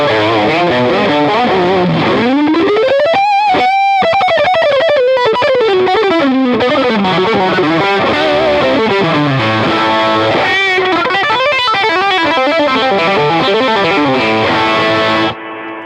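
An electric guitar played through a Peavey Bandit 112 amp with heavy overdrive rings out loud and saturated, its sliding, bending notes sustaining with thick distortion, alone without any talk.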